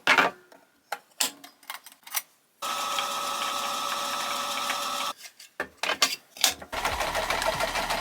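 A sewing machine stitches a crocheted granny square tote bag, its steady whirring run lasting a few seconds between short bursts and stops, close and fairly loud.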